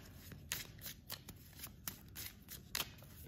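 Oracle cards being shuffled in quick riffling bursts, crisp papery flutters repeating irregularly at close range with no talking.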